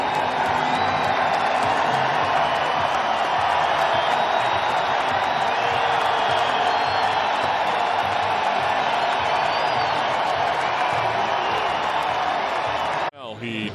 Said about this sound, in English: This crowd will let him know what they think of his work tonight in his Padres debut.